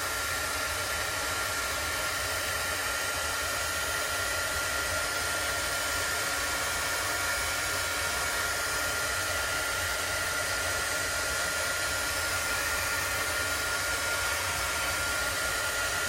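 A hair dryer blowing steadily on chalk paste over a chalkboard, a constant close whooshing roar with no pauses or talk.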